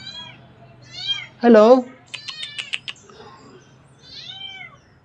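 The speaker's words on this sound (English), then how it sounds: "Oh, where's this little kitten come from?" A small kitten meows several times nearby, high and wavering, around a short spoken greeting, with light tapping sounds between the cries.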